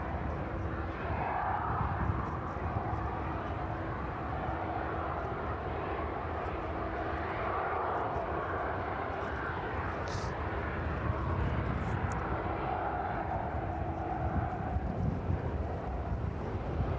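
A jet airplane engine roars steadily in the distance at East Midlands Airport, mixed with gusty wind buffeting the microphone, sustained for the whole stretch without talk.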